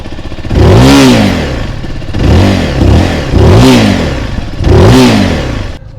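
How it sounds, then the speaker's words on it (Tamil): A Zontes 350T motorcycle with a double-barrel exhaust revs up hard four times in a row, each loud throttle blip climbing then dropping back to idle, heard close and without talk. "டபுள் பேரல் எக்ஸாஸ்ட்ங்கிறனால சவுண்டு வந்து ரொம்ப நார்மலாக தான் இருக்குது"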